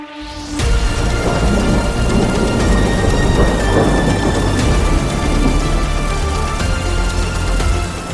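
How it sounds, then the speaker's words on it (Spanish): A thunderstorm with heavy rain: a loud thunderclap cracks open and rolls on as a long rumble, under a dense, steady downpour hissing on surfaces throughout. "Un estruendoso trueno que lo ensordece todo."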